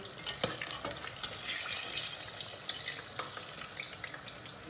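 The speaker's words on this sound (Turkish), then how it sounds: "Patlıcanı yağa attıktan sonra altını yükseltiyoruz." Eggplants fry in hot oil with a continuous, crackling sizzle punctuated by small pops and spatters, moderately quiet and without any talk.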